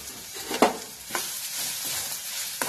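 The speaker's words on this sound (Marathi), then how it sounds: "आलं याच्यामध्ये घालायचं आणि त्याच्याबरोबर आणखीन एक 5 मिनिटं आपण भाजून घ्यायचं" Onion, tomato, ginger and garlic paste frying for Punjabi paneer tikka, a soft steady sizzle broken by a few sharp scraping strokes of a spoon against the pan, with no speech.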